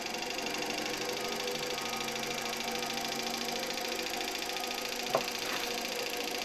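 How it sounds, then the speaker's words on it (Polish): The motor of a circa-1977 Electrolux Z325 vacuum cleaner spins slowly on a 24V transformer, a steady, fairly quiet hum with a faint whirr and one brief click near the end. "No i wirnik silnika zaczyna się obracać."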